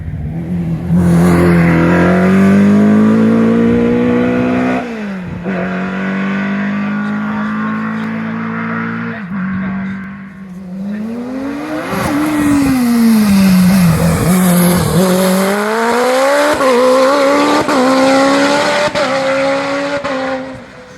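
A racing car's engine howls nearby at the Gurston Down speed hillclimb, rising through gears with sharp upshifts, then slowing and revving hard again as it accelerates away.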